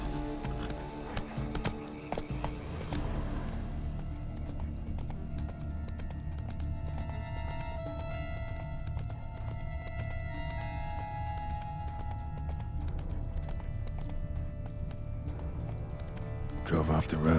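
Horse hooves clip-clop steadily in The Witcher 3 video game, a rhythmic gallop under a sustained musical score.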